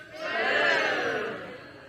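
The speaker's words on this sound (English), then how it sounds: "Why are they booing us?" A theater audience at a live comedy show boos together in one sustained swell that builds and then fades, dense and fairly loud.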